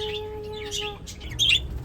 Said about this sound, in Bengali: এগুলো হলো নানা রঙের বদ্রি পাখি। সবসময় কি সুন্দর কিচিরমিচির করেই চলেছে।